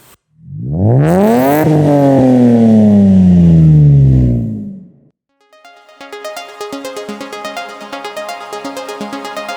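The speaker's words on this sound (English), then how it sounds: "I've waited so long to hear, the 2JZ sound really coming from my car" A Lexus IS300 2JZ engine with a Tanabe Medallion Touring exhaust roars up into a loud rising rev, then drops away to a fast, rattling idle with rhythmic pulses.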